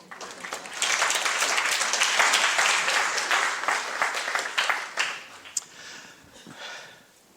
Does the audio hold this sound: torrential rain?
no